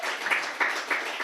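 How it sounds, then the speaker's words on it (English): A short burst of audience applause at a Global Game Jam 2025 opening presentation, a few rhythmic clustered claps heard close and fairly loud, with no talking. "round of applause for Scott for helping organize that"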